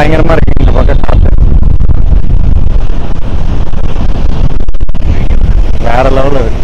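Strong wind on a rocky seashore at Rameswaram in rain, loudly buffeting the microphone in a constant roar, with voices briefly audible at the start and near the end.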